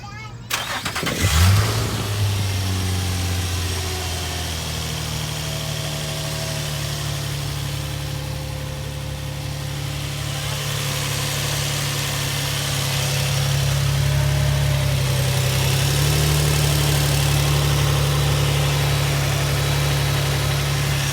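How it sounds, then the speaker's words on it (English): A Nissan G35X engine cranks and catches, then runs with a steady low idle before the revs rise and hold in a louder, sustained drone. "Give it some revs."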